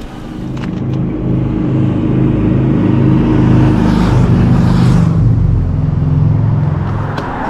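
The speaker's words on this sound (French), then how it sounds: "dès que j'entends le bruit d'une Harley" A Harley-Davidson motorcycle engine rumbles loud and close, a deep throbbing low-end drone that swells slightly mid-clip as it accelerates, then holds steady without any talking.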